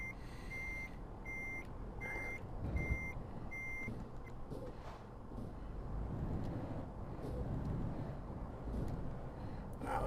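A Mercedes Actros truck in Euro Truck Simulator 2 gives five evenly spaced, high reversing beeps, then falls silent while the diesel engine rumbles and hisses steadily underneath.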